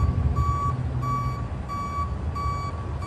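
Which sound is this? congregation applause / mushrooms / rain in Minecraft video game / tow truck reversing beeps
tow truck reversing beeps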